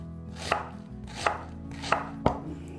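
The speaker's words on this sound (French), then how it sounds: "Et on s'attaque aux oignons, car c'est quand même eux les ingrédients principaux de ce plat." Onions being chopped on a cutting board for an easy winter meal, four distinct knife strikes in an uneven rhythm over a low steady kitchen hum, close and clear.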